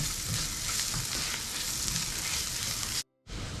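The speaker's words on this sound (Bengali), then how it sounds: "মশলাটা মিক্স করে নিয়েছি পেঁয়াজের সাথে।" Spices and onions sizzle and fry in a pan while being stirred, a close, dense crackling hiss that runs continuously, then breaks off briefly before resuming.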